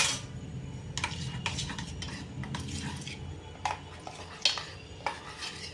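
Semolina stirred into yogurt in a bowl, with a spoon scraping and clinking against the sides in a steady series of close, crisp strokes and occasional sharper taps.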